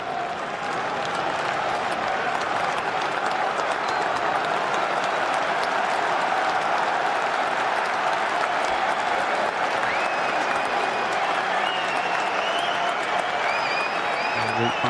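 Spectators at Lord's cricket ground during a 2019 Ashes Test keep up sustained applause and clapping, a dense, even wash of crowd noise lasting the whole stretch, with commentators talking over it.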